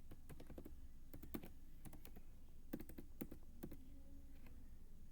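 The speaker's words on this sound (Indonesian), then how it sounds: "Kita ketik manual aja lah." Keys on a computer keyboard are typed in quiet, uneven bursts of light clicks with short gaps between them, close by against a faint background hum.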